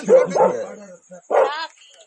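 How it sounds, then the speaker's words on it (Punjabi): A dog gives a couple of short, close barks and yips separated by a brief pause, loud and distinct against a quiet background. "ਬੰਦ ਕਰ ਇਹ ਕੁੱਤਾ"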